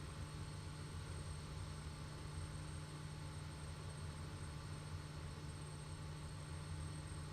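Kodiak aircraft turning onto final for an RNAV approach in Microsoft Flight Simulator 2020, its engine a steady, unbroken drone with a constant tonal hum that holds at even loudness throughout.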